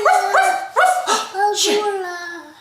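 A dog barks in four or five quick, high, yelping barks, close and loud, with no talk over it.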